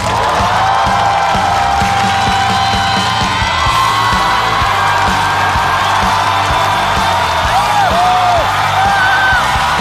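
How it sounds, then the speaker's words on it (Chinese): A live studio audience at a stand-up comedy show cheers and whoops as the comedian Niaoniao walks onto the stage: a dense, loud, continuous crowd roar with shouts rising above it throughout. "让我们掌声欢迎鸟鸟"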